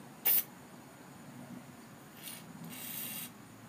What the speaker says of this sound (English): you can just get a carb carb cleaner and spray it in every one of these jets.